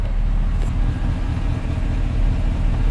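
The engine of a crawler hauler runs close by with a steady, heavy low rumble that stays fairly even, with no voices over it.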